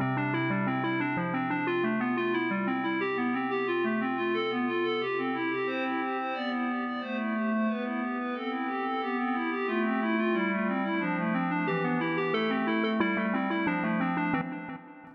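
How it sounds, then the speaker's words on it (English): Synthesizer notes held as layered sustained chords with a slow amplitude attack, so each note swells in softly rather than striking; a steady, continuous tone alone with no talking. "Listen to what happens if I turn up the attack time."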